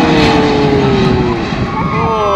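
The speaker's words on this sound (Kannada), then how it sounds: "DHL ಫ್ಲೈಟ್ ಗೈಸ್ ಇದು. ಸೌಂಡ್ ನೋಡಿ" Engines of a large DHL cargo jet roar steadily and loudly at an airport, with a whining tone sliding slowly downward as the aircraft passes.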